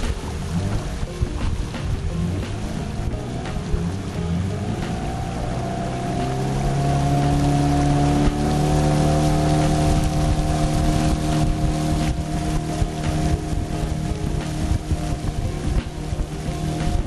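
On a jungle river in Gabon, a motorboat engine with a steering handle problem drones steadily for many seconds, rising slightly in pitch midway, mixed with wind buffeting and water noise and no speech.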